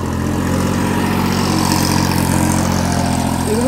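A Massey Ferguson 9500 Smart diesel tractor engine runs steadily close by, a loud, constant low throbbing drone with no speech.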